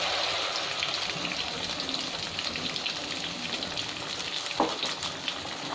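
Onions with cashew paste for kaju paneer frying and being stirred in a pan, a dense, continuous close sizzle with soft scraping and one brief knock partway through.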